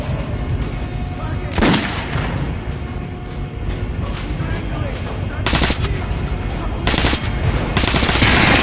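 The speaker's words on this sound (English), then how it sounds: "Now shoot the armored dummy." Gunfire at an armored training dummy in the shooter game Metro 2033: several loud, sharp shots in separate bursts over a steady low background rumble, with the last bursts coming close together.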